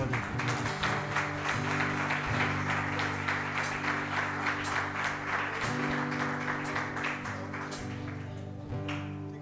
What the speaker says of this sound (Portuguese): Aplaude ao Senhor para a glória de Deus